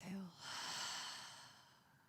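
A single slow, breathy exhale during a guided yoga session, soft and close, fading gently over about two seconds.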